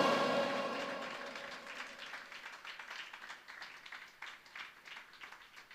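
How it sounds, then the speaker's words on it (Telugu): A church congregation claps loudly together during a Sunday sermon: dense, continuous applause that starts strong and slowly thins and fades over several seconds. "బిగ్గరగా చప్పట్లు కొట్టి ప్రభునామాన్ని గణపడదాం"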